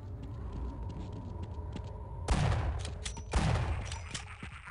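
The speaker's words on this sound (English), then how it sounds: "Now let's try the shotgun." Two loud, booming shotgun blasts from the video game Half-Life go off about a second apart, each with a trailing echo, over a steady low background hum.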